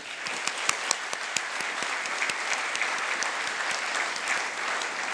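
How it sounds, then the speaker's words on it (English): Audience applause at a memorial lecture honouring Tiger Pataudi, with Brian Lara as the guest: sustained, dense clapping from a large crowd, steady and continuous throughout with a few sharp claps standing out. "May I request everyone for a round of applause to celebrate their lives."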